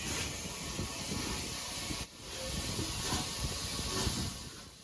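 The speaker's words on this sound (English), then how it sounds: "And the train is leaving Harman's Cross here" A steam train departing Harman's Cross on the Swanage Railway hisses loudly and continuously, a broad rushing steam sound with a brief dip midway, close by and without speech.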